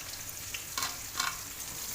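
Potato and onion pieces with salt frying in a pan give a steady close sizzle, with a couple of brief stirring scrapes partway through.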